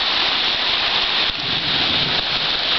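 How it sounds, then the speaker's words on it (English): Steady, loud rain pours down outdoors during a cool evening thunderstorm, a continuous dense hiss with a brief dip about a third of the way through, no voices present. "There's lightning and thunder."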